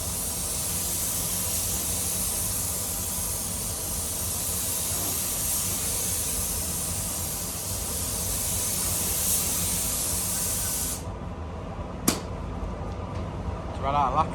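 A spray gun hisses continuously as lacquer is sprayed onto a Honda Integra DC5 in a body shop, a loud, steady rush that suddenly cuts off near the end as the gun runs dry.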